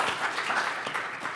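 An audience at an education conference session claps for an invited guest, a short burst of scattered, moderately loud applause.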